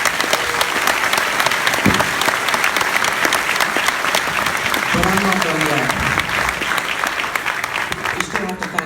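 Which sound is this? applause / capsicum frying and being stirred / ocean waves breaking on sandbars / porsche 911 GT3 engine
applause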